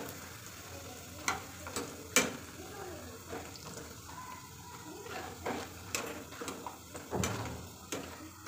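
Papad fries in hot oil with a soft crackling sizzle, broken by intermittent clinks and scraping taps of stirring utensils, fairly quiet and close.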